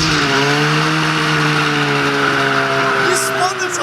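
A snowmobile-engined go-kart does a burnout, its engine screaming at steady high revs for several seconds while the tires spin, loud and close with no break in the roar.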